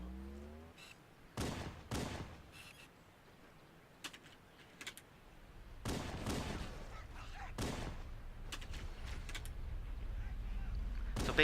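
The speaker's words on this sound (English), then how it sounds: "we're going to sit here and enjoy the rest of the firefight" Gunfire in a firefight in the video game Halo Custom Edition, on the Lumoria map: irregular bursts of shots and heavier blasts, some close and loud, others sparse, over a rumbling background.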